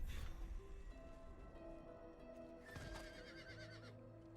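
A horse in the video game Diablo 4 lets out a loud whinny, a bright wavering neigh over game music, with a few hoof clops near the start and no speech.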